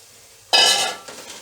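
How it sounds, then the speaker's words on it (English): Kidney beans tipped into a hot pan for a rajma curry land with a sudden loud clatter and sizzle, followed by a couple of softer stirring scrapes. "At this point I am going to add the kidney beans."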